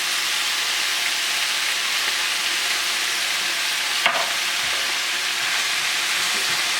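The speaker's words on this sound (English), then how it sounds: "Stir it up a little bit. A little salt and pepper in there." Beans and greens sizzle steadily in a hot pan as they are stirred, a continuous loud frying hiss with one brief sharp scrape of the utensil midway.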